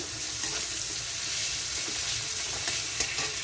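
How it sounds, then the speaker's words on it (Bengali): Onion and garlic fry in hot oil in a pan, a steady close sizzle with occasional stirring scrapes and no talking. "পেঁয়াজটা ভাজি, রসুনও দিলাম।"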